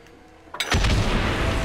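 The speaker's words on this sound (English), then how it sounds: "Alright, we are prepped for quite the explosion here." A TNT charge detonates in the World War I video game Valiant Hearts. A short quiet lead-in gives way to a sudden loud, broad blast that rolls on as a sustained heavy roar to the end.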